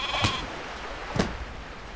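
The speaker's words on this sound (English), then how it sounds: "We have a few sheep here" Sheep in the SkySaga video game give two short bleats about a second apart, fairly clear over a quiet background.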